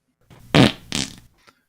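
A fart sound effect drops into a sports podcast chat about quarterback rookie rankings: two short, loud, raspy blasts about a third of a second apart, with a faint tail after them.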